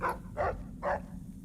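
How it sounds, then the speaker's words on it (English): A dog companion in Fallout New Vegas barks three times in a steady rhythm, each bark short and close, over a low background hum. "Please don't bark. You will alert them to our presence."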